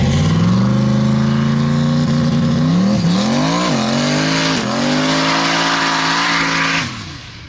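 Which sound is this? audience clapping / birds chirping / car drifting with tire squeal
car drifting with tire squeal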